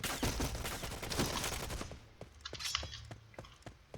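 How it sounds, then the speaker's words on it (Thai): Rapid gunfire in the shooter game Point Blank: a dense burst of automatic fire that thins out into scattered single shots, loud and close, with no talk. "อสการไล่ยิงใครน้อง ไล่ยิงใคร"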